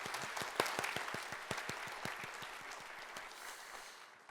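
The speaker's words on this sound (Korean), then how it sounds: "하나님께 영광의 박수 한번 올리시죠." Korean church congregation at a Sunday service claps together in a quick, regular rhythm, loud and unified at first and gradually thinning out toward the end, with no voices.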